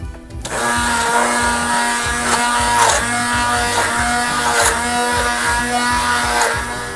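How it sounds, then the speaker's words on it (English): An electric blender whirs steadily as it creams butter and sugar for an eggless Christmas plum cake, a close, loud motor drone with rhythmic pulsing and faint rattles from the mixture for several seconds. "I'm going to blend this till it gets fluffy and smooth."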